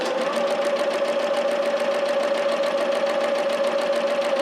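A sewing machine stitches fabric with a fast, even mechanical chatter that keeps a constant rhythm and a steady hum, close and continuous with no pauses.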